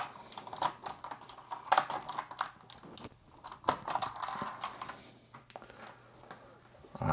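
Steady, brisk typing on a hot-swap Keychron C2 wired keyboard fitted with Novel Keys Sherbet switches, near and clear, with uneven bursts of clacky keystrokes and short pauses.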